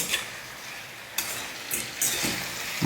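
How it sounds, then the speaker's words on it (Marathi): Chicken coated in masala fries on high gas, giving a continuous sizzle broken by a few scraping stirs of the spatula in the pan. "गॅस आता वाढवायचा आणि व्यवस्थित त्याला फ्राय करून घ्यायचं आपल्याला बरं का"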